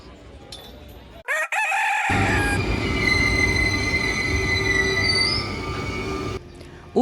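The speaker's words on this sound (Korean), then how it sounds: "오르세 미술관 앞에 있는 전철역으로 걸어가서 베르사유 궁전으로 가는 전철을 탔습니다." A Paris metro train heading to Versailles from the station by the Musée d'Orsay squeals loudly and steadily on its wheels over a heavy rolling rumble, close by, for several seconds before the screech eases.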